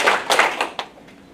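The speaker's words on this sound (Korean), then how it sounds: "박수 두 번 시작." Two sharp hand claps ring out close and loud, a brief pause between them, followed by a short fading room echo at a concert lecture.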